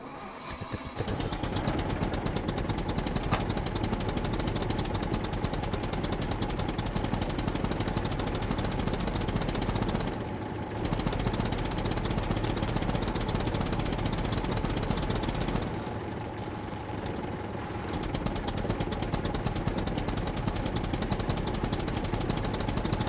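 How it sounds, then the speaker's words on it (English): A tractor engine in SCUM runs continuously with a steady, rough chugging drone, loud and close, briefly dipping twice before picking back up. "So the tractor is really good."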